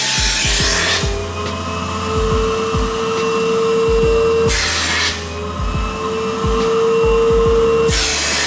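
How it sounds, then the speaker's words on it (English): Vacuum cleaner hoovering a dirty floor mat from a Lamborghini Miura: a steady loud whine with repeated rubbing and scraping strokes as the nozzle is pushed back and forth, plus brief surges of suction noise. "It's pretty dirty, so we're going to give it a quick hoover"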